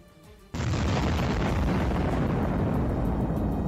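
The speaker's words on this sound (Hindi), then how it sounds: "तभी टैंकों के आगे जोरदार धमाका हुआ, जिससे काफिले को रोकना पड़ गया।" After a quiet moment, a loud blast erupts ahead of a tank convoy in the Russia-Ukraine war, swelling into a sustained, roaring rumble that fills the rest of the clip.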